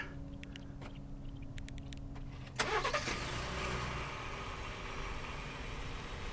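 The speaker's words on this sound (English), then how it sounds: "Along with that proximity key, you do get remote start." A Ford F-150 Limited pickup engine fires up by remote start after a quiet stretch of faint ticks, with a sharp crank that settles into a smooth, steady idle.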